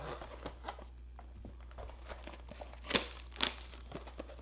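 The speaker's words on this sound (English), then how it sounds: "Today I'm going to be opening a Chronicles football blaster box." A Panini Chronicles football card blaster box being opened, with soft crinkling and tearing of packaging, a few sharper crackles standing out over quiet handling.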